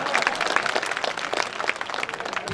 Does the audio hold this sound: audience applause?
yes